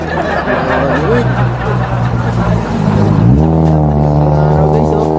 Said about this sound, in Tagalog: Guys, may sasakyan.